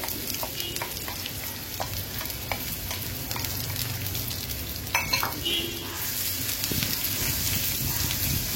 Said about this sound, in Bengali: তো এর মধ্যে এখন আমি পেঁয়াজ কুচি দিয়ে দিব। জাস্ট পেঁয়াজগুলোকে একটু ভেজে নেব।